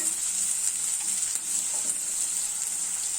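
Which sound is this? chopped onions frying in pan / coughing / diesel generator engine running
chopped onions frying in pan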